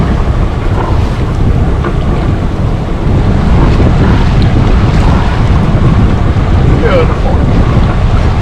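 A sailboat under way on open water with its motor throttled back to about 1,500 RPM, giving a steady low rumble mixed with wind buffeting the microphone and wash of waves, loud and continuous throughout.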